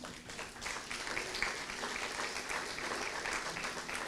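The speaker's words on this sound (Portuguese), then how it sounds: "Aplauda o Senhor por isso." Applause from a church congregation during a sermon, continuous mid-level clapping from many hands filling the room for several seconds, with no clear speech.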